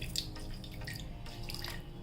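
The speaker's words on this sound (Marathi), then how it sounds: "त्यासाठी मी ना याच्या भांड्यामध्ये थोडंसं पाणी घालते" Water poured into a mixer grinder jar coated with leftover cashew paste, a steady soft trickling and dripping that runs continuously at low level without speech.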